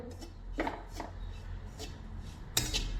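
Grated coconut is roasted in a pan for fried rava-coconut modak filling, with intermittent soft scraping and stirring strokes against the pan over a low steady background hum, ending in a sharper clatter.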